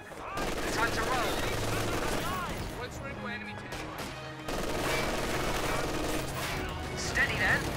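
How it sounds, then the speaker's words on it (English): Machine gun fire in Company of Heroes 2 during a 2v2 match, a continuous rattling barrage layered with battle noise and unit voice lines, with a louder burst after a brief lull. "Machine gun hitting us!"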